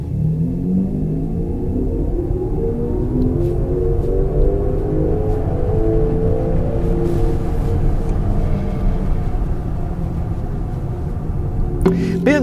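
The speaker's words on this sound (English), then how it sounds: "the electric sounds are the nicest I've heard in any car" Kia EV9 electric SUV producing artificial driving sounds, a continuous low whirring hum with slowly sweeping tones, steady and fairly loud from inside the car.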